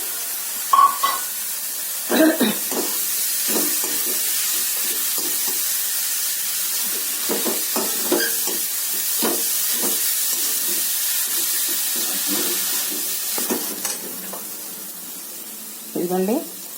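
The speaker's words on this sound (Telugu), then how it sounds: "జీడిపప్పులు తీసాక ఆ నెయ్యిలోనే మనం క్యారెట్ వేసుకొని వేయించుకోవాలి" Carrots fry in ghee with a steady, loud hissing sizzle, while a spoon scrapes and clatters now and then and a voice talks over it.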